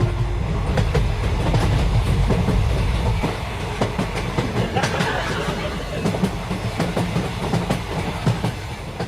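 A train rolls in steadily with a continuous rumble and rhythmic clickety-clack of wheels over rail joints, loud and close, with no voices.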